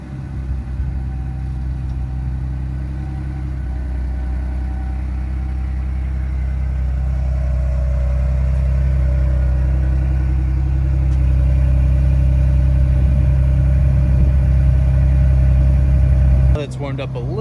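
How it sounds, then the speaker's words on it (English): A Ford Bronco engine cold-starts and settles into a steady, loud, deep idle that rumbles on with a slight rise in level, ending in a brief clatter near the close. "let's go ahead and cold start."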